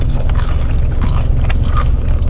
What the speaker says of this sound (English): I love that crunch. It's so crispy that it actually kind of broke apart.